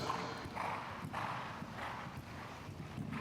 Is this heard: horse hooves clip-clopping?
yes